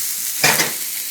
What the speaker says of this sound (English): I'm going to throw in the garlic and onion now